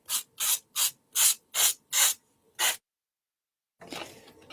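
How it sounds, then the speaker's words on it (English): Sandpaper rubbed over embossed cardstock for a holiday card, seven quick, even scratchy strokes in a steady rhythm, then a pause and a softer, longer scuff, close up with no voices. "I'm going over the whole thing with the sandpaper"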